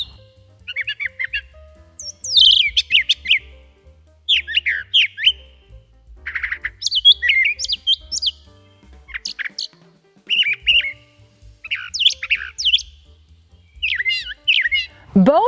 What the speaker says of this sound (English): Here's a brown thrasher song.